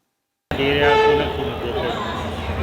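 A special train at a railway station, carrying Western Railway Employees Union members to Delhi: a loud, steady rumble with sustained horn-like tones begins abruptly after a brief silence and carries on without pause.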